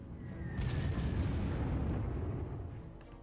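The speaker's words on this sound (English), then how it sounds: "So let's level bomb this defensive position." Level-bombing strike in the WWII strategy game Panzer Corps, Afrika Korps Caucasus campaign: a sustained deep, rumbling explosion that swells after a brief lead-in and slowly fades, with no talk.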